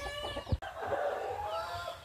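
Native chickens cluck close by, a short burst of soft throaty calls followed by a brief sharp knock and then continued low clucking and murmuring.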